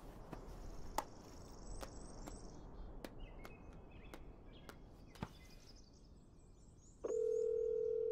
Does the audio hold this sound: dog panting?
no